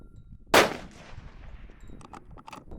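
A single sharp, loud gunshot from an Aero Precision Solus rifle chambered in 6.5 Creedmoor during an outdoor accuracy test, its crack decaying into a long echo, followed by a couple of faint metallic pings.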